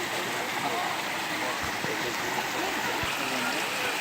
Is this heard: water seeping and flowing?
yes